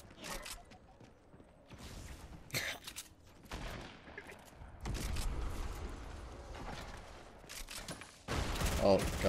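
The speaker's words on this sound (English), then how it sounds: "guy over there, grenade launchering. I used my last rocket on him, I hit him for like 70" Explosive launcher blasts and rocket fire in the Fortnite video game, loud bursty hits recurring irregularly with a heavy barrage near the end, mixed with other game sounds.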